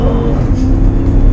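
A Jeep SUV with a 5.7 liter Hemi engine accelerating, a loud, close, low engine roar held steady throughout a brief moment.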